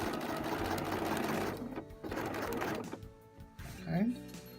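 A sewing machine stitches a spring coat in several runs of close mechanical whirring that stop and start, with someone talking in between.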